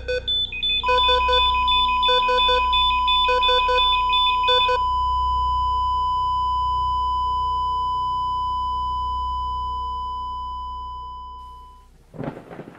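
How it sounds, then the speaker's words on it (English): An alarm clock rings in rapid repeating electronic beep bursts for several seconds, then a long steady tone lingers and slowly fades before a brief crash at the end. "Can you still hear the clock?"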